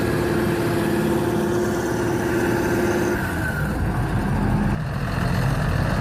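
A John Deere 7820 tractor stuck in wet mud while plowing, its heavy diesel engine droning and idling up close, with a lower, rougher rumble and a shift in tone midway through.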